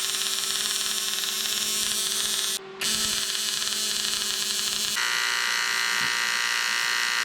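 A TIG welding torch with a gas lens and tungsten electrode gives a steady, fairly loud electric buzz and hum that cuts out briefly and then resumes, with no talking.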